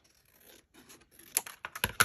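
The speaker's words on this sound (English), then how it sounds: "I'm going to cut this off the bottom" Scissors snipping paper to trim a strip off the bottom for a craft label, a few quiet scratchy cuts that build to sharper, louder snips near the end.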